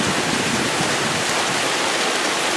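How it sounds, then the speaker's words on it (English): Rainwater pours steadily off a house roof in Florida during Hurricane Irma, a dense, unbroken hiss and splash like a small waterfall, loud and close. "this is just garden variety thunderstorm stuff here with the water pouring off of the house."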